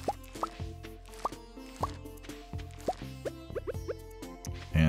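Watering crops with a watering can in Stardew Valley gives a run of soft watery plops and drips, about a dozen spaced through the clip, over bright plucked game music.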